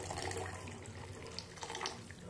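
Water poured from a tap or vessel into a pan for cooking Bombay rava, a steady close splashing flow with no talk over it.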